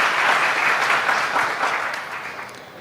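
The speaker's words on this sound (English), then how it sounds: "Round of applause for Dr." A room full of people at a maternal health conference applaud, a loud, dense wash of clapping that holds steady and then gradually fades.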